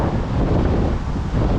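Strong outdoor wind buffets the microphone in a continuous, loud, low rumbling roar with no pauses, with no voices or other sounds heard over it.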